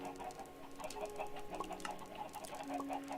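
Chickens clucking in the Minecraft video game, a steady run of soft game clucks and farmyard chatter at moderate level with no talk over it.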